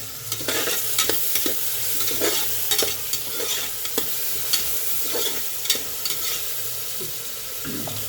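Onions salted in hot oil for an Irani-style chicken curry sizzle in a pan, with frequent spoon scrapes and clinks as they are stirred close by.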